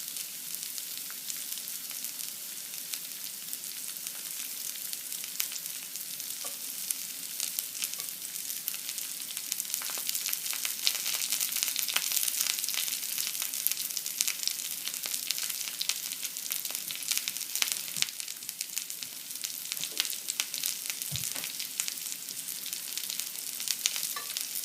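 Wild mushrooms fry in oil on high heat, giving a steady, close sizzle with scattered crackles and pops throughout, and no talking.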